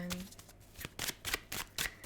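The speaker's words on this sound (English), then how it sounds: "This took forever to shuffle." A deck of tarot cards being shuffled by hand, a quick run of soft riffling bursts close up and fairly quiet, with no talk over it.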